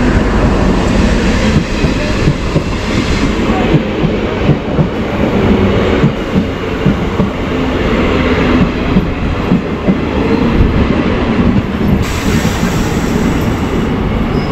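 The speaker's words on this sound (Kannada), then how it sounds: "ನಮ್ಮ ಟ್ರೈನು ಸದ್ಯಕ್ಕೆ ಕೆಂಪೇಗೌಡ ಇಂಟರ್ನ್ಯಾಷನಲ್ ಏರ್ಪೋರ್ಟ್ಗೆ ರೀಚ್ ಆಗಿದೆ" A train rumbles steadily along the rails as it arrives at the Kempegowda International Airport station in Bengaluru, a loud continuous roar with faint clattering of wheels and carriages throughout.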